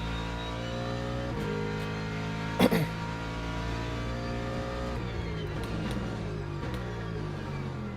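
Mercedes-AMG race car in Le Mans Ultimate racing at Spa, a steady engine drone with shifting harmonic tones as the car runs through gears, with a brief burst of cough-like noise near the middle.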